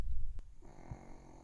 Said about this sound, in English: I swear my dog is snoring so loudly